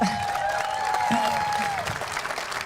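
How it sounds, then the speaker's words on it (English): A crowd at a flag unfurling ceremony claps for a Purple Heart veteran, a brief burst of applause mixed with voices and a sustained tonal sound in the background. "give him a round of applause"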